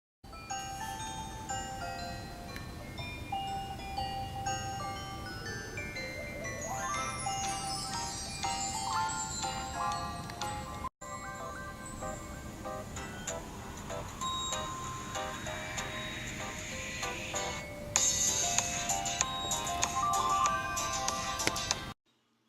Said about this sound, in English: This theme also includes sounds for alarm and ringtone